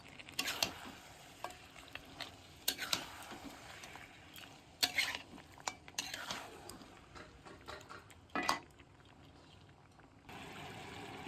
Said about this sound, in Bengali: আদা রসুন লঙ্কা পেস্টটা দিয়ে ভালো করে নাড়াচাড়া করে আবার ঢাকা দিয়ে দেবো